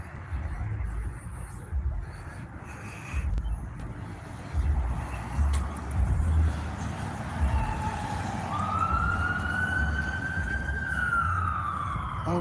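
An emergency vehicle pulls out with lights and siren outside a city council meeting, its wail starting faint and rising to a clear, sustained tone over street rumble and traffic noise.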